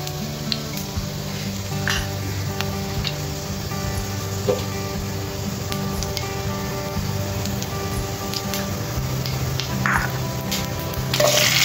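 Mustard seeds and cumin sizzle in hot ghee over a full flame, a steady crackling fry with scattered pops and small spatters, close and continuous, with occasional faint clinks of a pan.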